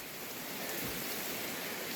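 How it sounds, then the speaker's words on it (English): Water poured from a container onto plants in a greenhouse, a steady soft splashing hiss that continues evenly throughout, with no voices. "Give them a little bit of water here."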